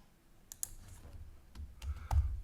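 Keys on a computer keyboard are struck to type a word, giving a short run of irregular clicks and taps, close and fairly quiet, with a few firmer presses toward the end.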